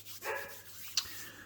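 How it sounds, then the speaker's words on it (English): A dog barks once nearby, a short sharp yelp, followed by a fainter brief second yap, over a low steady hum. "and that's a dog barking"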